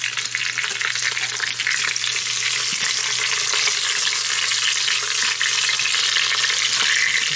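Lamb shanks browning in a hot pan, a steady, loud and close sizzle of frying meat running unbroken throughout with no talking.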